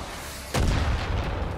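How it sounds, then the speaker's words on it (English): An airstrike explosion in the video game Far Cry 5 hits as a sudden heavy boom, followed by a deep rumbling roar that lingers at the end. "Where's the airstrike?"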